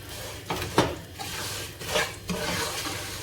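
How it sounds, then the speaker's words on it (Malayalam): Vermicelli (semiya) stirred and roasted in ghee in a pan, a steady sizzling hiss with a few scraping strokes and clinks of the spoon against the pan, close and moderately loud, no talking. "അപ്പോൾ നല്ല ഈ നെയ്യിൽ കിടന്ന് നന്നായിട്ട് വറുത്തെടുക്കാം."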